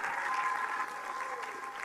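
Sustained applause rises from a seated audience at a panel event on women and the world's oldest religion, a thick, continuous patter of many hands clapping with no voices over it.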